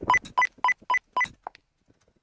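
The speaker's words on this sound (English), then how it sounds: "This is the sound of the teleporter if you use your camera." A series of short, bright electronic blips in a quick rhythm, followed by a few fainter chirps: the teleporter effect in the video game Ultra World.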